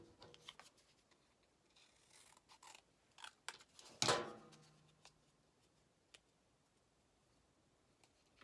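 Small scissors give one crisp snip through a very thin Dollar Tree decorative strip while planner pages are handled, quiet and close amid light rustling, with no talking.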